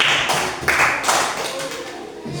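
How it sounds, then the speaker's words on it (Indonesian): Children applauding their classmates in a classroom, a brief burst of scattered hand claps that tapers off over a couple of seconds, fairly close, mixed with some speech. "Oke, tepuk tangan untuk teman-teman semua."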